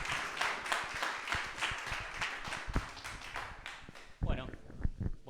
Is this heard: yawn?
no